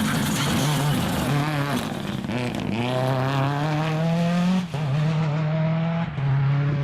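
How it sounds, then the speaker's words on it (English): A Mitsubishi Lancer Evo rally car at the Corinium Stages races past on a dry stage, its engine note rising and shifting through gears, loud and close with a slight tyre edge. "Mitsubishi Lancer Evo there"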